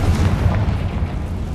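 Confringo blast spell explosion in the Hogwarts Legacy video game, a heavy, close, rumbling boom that fills the whole short moment and fades only slightly.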